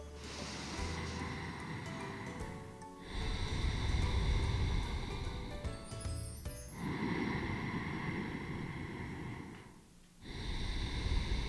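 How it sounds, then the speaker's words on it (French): A person breathing close to the microphone, slow rushing inhales and exhales in a few long cycles with short pauses between, soft and airy, with no talk. "maintenant, je peux entendre ma respiration."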